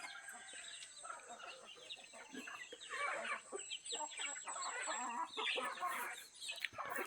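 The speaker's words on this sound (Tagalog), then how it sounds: "Native chicken ang mga yan guys." Native chickens cluck steadily, several hens nearby, with soft bird chatter and rustling filling the background throughout.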